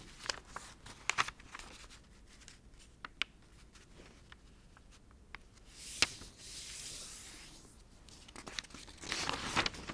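A paper rectangle is folded horizontally in a quiet room, producing faint crinkling, soft creasing taps and rustles scattered across the moment.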